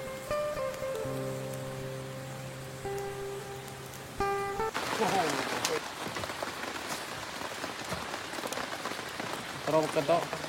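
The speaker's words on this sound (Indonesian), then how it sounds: "hujan teman-teman dan juga angin kencang" Heavy rain pours steadily at an upstream river campsite in forest during stormy weather with strong wind, a dense continuous hiss with soft voices faintly underneath.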